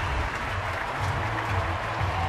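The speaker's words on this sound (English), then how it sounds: "there's the applause for our gentleman" A crowd at a baseball stadium applauds during a Houston at San Francisco game, a steady, distant wash of clapping and murmur with no single standout sound.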